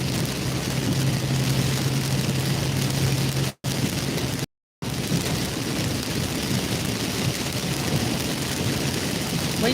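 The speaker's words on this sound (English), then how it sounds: "we're just driving and chatting and watching the rain come down" Steady rain drumming on a moving car in Kentucky during a storm, a dense continuous hiss with road rumble underneath, close and loud, with two brief dropouts partway through.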